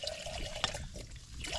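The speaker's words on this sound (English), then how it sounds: "So I am going to pop some water in here" Water is poured into a camping pot during a winter wild camp, a soft trickling splash that comes and goes in short bursts at close range and low volume.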